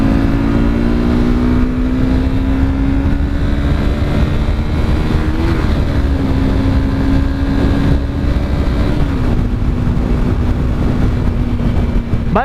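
A Honda CBR motorcycle rides along a road, its engine a steady loud drone that shifts pitch a few times as the rider changes speed, with wind rush throughout.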